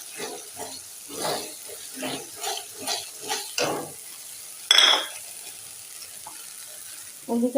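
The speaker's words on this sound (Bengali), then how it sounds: "একটু একটু পানি দিব আর মশলাটা সুন্দর করে কষিয়ে নেবো অনেকক্ষণ" Masala spices stirred and fried in a pan for a chicken curry, a steady sizzle broken by rhythmic scraping strokes of a spoon, with one sharp clank near the end and a few metallic clatters after.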